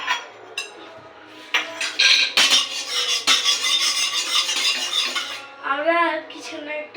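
Food stirred in a pot with a metal spoon, scraping and clinking against the sides in uneven bursts, close and fairly loud, with a voice heard briefly near the end.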